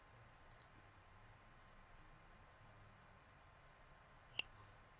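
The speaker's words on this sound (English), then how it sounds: "So I click next" A computer mouse click, one sharp, close tick in a quiet room, preceded by a faint quick double tick.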